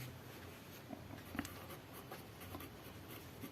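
Pen writing by hand during a maths lesson, a faint steady scratching and tapping of strokes on a surface over quiet room noise.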